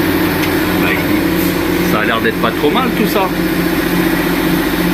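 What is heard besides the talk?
BMW/Peugeot/Citroën 1.6 THP EP6 petrol engine running, tractor-like noise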